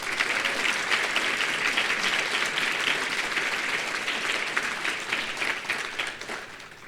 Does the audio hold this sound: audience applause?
yes